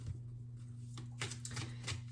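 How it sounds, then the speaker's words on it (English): A Boujie tarot card deck being shuffled by hand: faint, close, repeated riffling bursts in an uneven rhythm over a low steady hum. "right now I'm shuffling the Boujie deck by Biadora"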